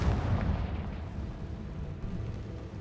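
A Confringo fire spell detonates in Hogwarts Legacy, a deep booming blast with a rumbling tail that stays loud and dense, with no voices over it.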